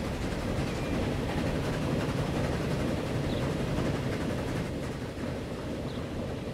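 Train rolling along the tracks in the transport game Transport Fever 2, a steady, continuous low rumble with faint clatter that holds at an even level throughout, with no talking.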